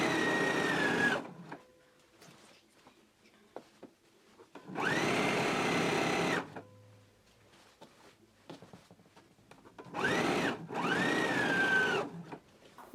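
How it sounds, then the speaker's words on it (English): A sewing machine stitches a jacket sleeve seam in three loud bursts of rapid mechanical whirring, separated by quieter pauses filled with faint handling noises. "So let's go ahead and sew our sleeve in now."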